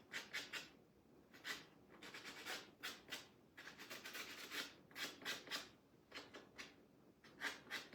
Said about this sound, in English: Just sand the paint off the sides